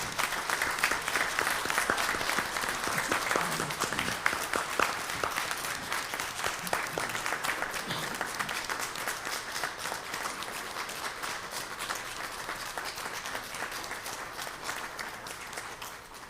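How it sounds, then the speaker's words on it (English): Sustained applause from an audience at a city board of aldermen meeting, honoring firefighters, paramedics and an EMT driver, with dense steady clapping that runs the full length and fades only slightly toward the end. "So if you will, a round of applause for these men above and beyond."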